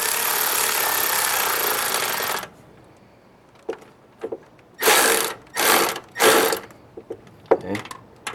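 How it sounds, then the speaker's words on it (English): An electric wrench snugs hose clamps during installation of an EJ25 Subaru boxer engine in a 2006 Forester. One long whirring run is followed by several short bursts and clicks, close by. "we're gonna use the electric wrench again"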